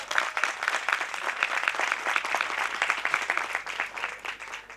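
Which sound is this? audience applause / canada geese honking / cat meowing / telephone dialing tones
audience applause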